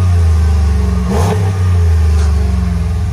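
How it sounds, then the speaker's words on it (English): A 2021 RAM 1500 with a Hemi V8 sits revving, its loud, close engine holding a deep steady idle with a quick throttle blip swelling briefly mid-clip before settling back. "Can we hear it? Can you give us a little rev action?"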